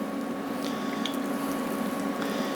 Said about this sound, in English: We're just giving these a shallow fry.